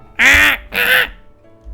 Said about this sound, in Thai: ที่นี่มีไก่ครับคุณผู้ชม